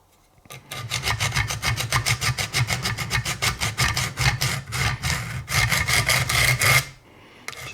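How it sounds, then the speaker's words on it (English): Buck 722 knife blade ground on a Wicked Edge sharpener, a rapid run of about thirty close, rhythmic rasping strokes of stone on steel, steady and even, then stopping. "Just grind it a couple times like this, just to make sure you get rid of that crappy edge."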